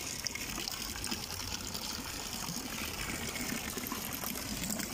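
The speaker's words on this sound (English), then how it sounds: "Another fountain" A street fountain in Malaga splashes and hisses continuously, a steady wash of falling water heard close with no clear voices over it.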